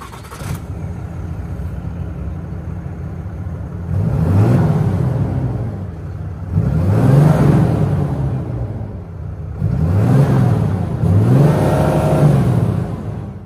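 Cummins 6.7 liter turbo diesel inline-six in a 2024 Ram 2500 Rebel pickup, cranking and idling with a low rumble, then revved in four swelling bursts, close and loud, with no talk.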